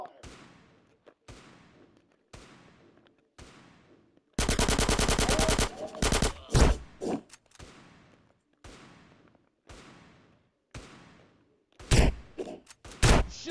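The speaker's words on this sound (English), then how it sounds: "Give me some fucking covering fire!" Gunfire fills the scene in GTA San Andreas, with repeated sharp single shots at a steady pace, a long loud automatic burst in the middle, then more scattered shots. Voices shout in between the shots.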